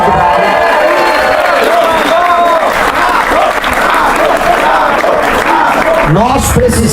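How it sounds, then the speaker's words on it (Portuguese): A rally crowd in Salvador, Bahia applauds and cheers loudly and continuously, clapping mixed with shouts and whoops that stay dense throughout, the crowd noise close and full. "Palmas, pessoal da Rádio Brado"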